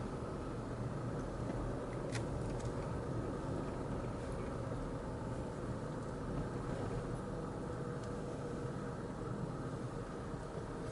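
A car drives slowly through a residential housing development in St. Augustine, giving a soft, steady interior road rumble and hum with no talking.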